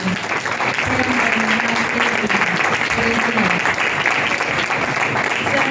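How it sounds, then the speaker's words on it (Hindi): Sustained applause from a large church congregation during a sermon fills the room, loud and continuous, with a low musical tone and some voices mixed underneath. "आए जरा खुदा के लिए एक दफा जोरदार तालियां"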